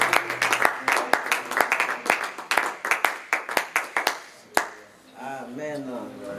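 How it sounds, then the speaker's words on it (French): A church congregation clapping together in a steady rhythmic beat, sharp evenly spaced claps that thin out and stop, followed by a voice speaking. "Acclamons pour le Seigneur."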